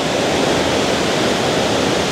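Strong rushing current pours through a dam in Lubao, Pampanga, a loud, dense and unbroken roar that fills the whole moment with no pauses.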